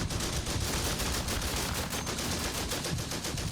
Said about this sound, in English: starting to hit those woods with artillery